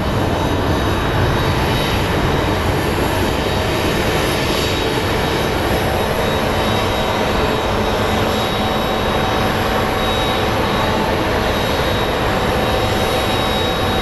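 An Envoy regional airliner at Phoenix Sky Harbor International Airport, its jet engines giving a steady, loud, broadband roar that holds evenly from start to finish with no talk over it.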